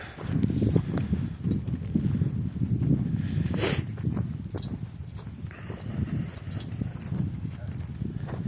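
Working farm horses walk during February ploughing, their hooves clip-clopping in an uneven ongoing rhythm close by, with people talking over them throughout.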